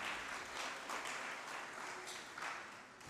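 An audience at a land surveying seminar claps steadily together for about three seconds, a soft, even patter heard from a distance with no voices.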